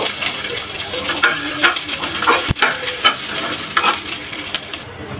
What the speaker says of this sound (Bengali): রসুনগুলো আমি বেজে নিব।